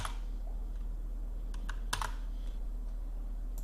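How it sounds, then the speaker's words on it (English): Steady, rapid keyboard typing with a few louder key clicks, close by, over faint background hiss; no talking. "Sorry about my typing."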